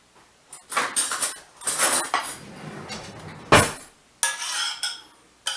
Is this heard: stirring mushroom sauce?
yes